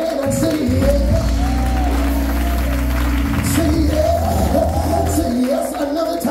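A church congregation claps and cheers during a Sunday night service. The clapping is loud and steady and sits over sustained musical tones, with scattered shouts and whoops from the crowd.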